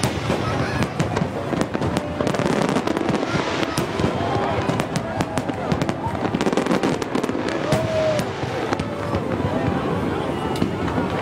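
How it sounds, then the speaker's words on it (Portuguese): New Year fireworks burst over Florianópolis by the Hercílio Luz Bridge in a dense, continuous crackle of pops and bangs, with a crowd's cheering voices mixed underneath. "Queima de fogos em Florianópolis"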